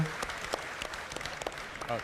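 Audience applause at CitizenCon 2949, the Star Citizen fan event, a steady patter of many clapping hands heard under a person talking.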